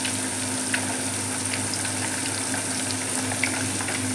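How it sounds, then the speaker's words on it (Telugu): Apollo fish pieces fry in a pan with a steady, close sizzle and crackle that holds evenly throughout, with a few faint stirring clicks and no talking. "చూస్తున్నారు కదా, మంచిగా ఫ్రై అవుతుంది."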